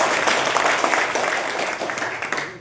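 Indoor audience clapping at a college admissions talk, a dense, steady round of applause that tapers off at the end.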